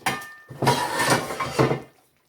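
A cooking pan holding simmering chicken, spinach and diced tomatoes gets its lid set on, giving a brief metallic clatter and scrape of lid against rim, close and fairly loud, then quiet.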